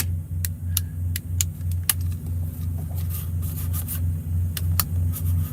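Steady low engine rumble and road hum from inside a moving truck cab, with occasional small rattles and clicks over the constant drone.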